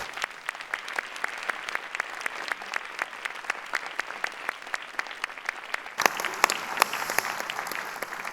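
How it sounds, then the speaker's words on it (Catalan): A large audience gives sustained, dense applause at a university doctoral graduation ceremony, steady clapping throughout that swells slightly louder and brighter near the end. "per tots ells també un fort aplaudiment"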